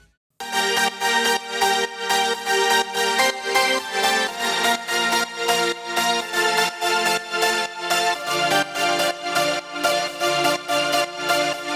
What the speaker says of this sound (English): Then we have a bunch of other synths which are playing the melody,